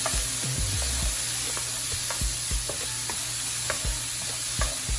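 Sea bass with fruit, vegetables, onion and scallion stirred in a hot pan: repeated close scrapes and knocks of a utensil over a constant bright sizzle.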